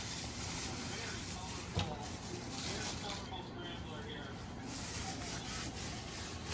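Hands rub a brown sugar spice rub into knife-scored raw pork ribs for grilling, a continuous close scraping and rustling friction with a brief knock partway through.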